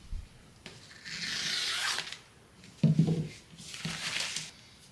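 Sharp scissors slice through side leather in a few close, rasping cutting strokes, separated by brief pauses, with no talking.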